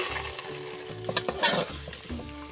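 Rice being stirred with ginger-garlic paste in a pan for pulao, a spoon scraping in repeated strokes over a soft steady sizzle, close and moderately loud with no talking.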